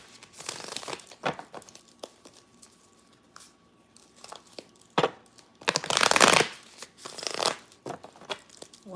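Tarot cards shuffled by hand, crisp papery riffles and slaps in uneven bursts, with one louder flurry partway through, close and fairly quiet.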